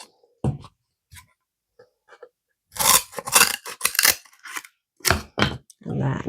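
Scissors snip through rope being trimmed for a nautical anchor wreath, a few sharp cuts and crunches close by, the first isolated and then a busy run of cutting over the last few seconds, with a person speaking between cuts.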